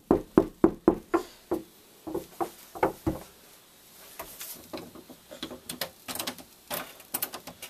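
A fist knocking on a bedroom door in a home, a brisk run of sharp raps followed by softer, scattered taps and thumps, close and loud.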